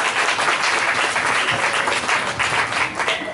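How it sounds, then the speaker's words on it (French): A crowd at a celebration of the MLK movement's 20 years of social justice work bursts into sustained loud applause and cheering, a dense wash of clapping that holds steady throughout. "Est-ce qu'on peut s'acclamer maintenant?"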